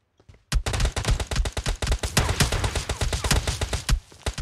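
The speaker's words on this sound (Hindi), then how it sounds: "पीछे भी फायर मार रहा है" Rapid automatic gunfire from the PUBG Mobile video game, played on an emulator, rattles in a dense, steady burst of loud sharp shots lasting several seconds after a brief quiet start.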